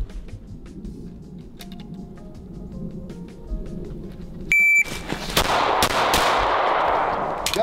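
Rapid pistol gunshots from a TTI Combat Master and TTI Pit Viper at a shooting match, a sharp timer beep followed by a loud fast string of close shots.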